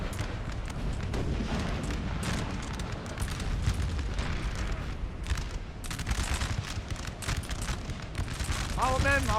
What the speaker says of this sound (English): Now they're firing.